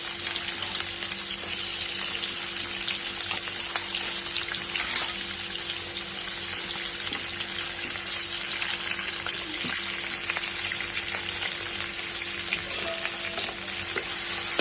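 Masala with onions and green chillies for chicken pulao fries in a pan with a loud, continuous close sizzle, steady throughout with scattered crackles, and no talking.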